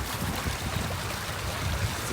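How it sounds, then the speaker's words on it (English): A small babbling brook on a farm runs in a steady, continuous wash of rushing and gurgling water, fairly close and even throughout, with no voices. "Our little babbling brook here."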